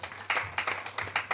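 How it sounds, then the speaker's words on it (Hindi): Congregation at a Good Friday church service clapping to welcome guest pastors, a fairly quiet, quick rhythm of overlapping hand claps lasting about a second and a half. "तो इस समय हम जोरदार तालियों से उनका स्वागत करेंगे।"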